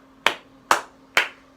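Three sharp hand claps ring out in an even, unhurried rhythm, each a crisp close smack with a short decay, alone over a faint steady hum.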